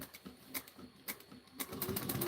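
A sewing machine back stitching: quiet, short, irregular bursts of rapid mechanical clatter with brief pauses between runs of stitches.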